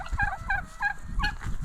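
Several farm turkeys gobble close by in a spring garden, four rapid rattling calls in quick succession, loud, with no talking.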